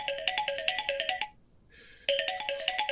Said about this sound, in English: Answer your damn phone.